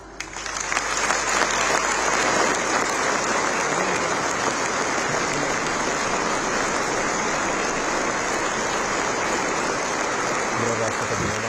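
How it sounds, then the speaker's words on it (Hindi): Thunderous applause fills the hall at Rashtrapati Bhavan during a gallantry awards ceremony, a dense, sustained roar of many hands clapping that holds steady for over ten seconds. "राष्ट्रपति भवन तालियों की गड़गड़ाहट से गूंज उठा।"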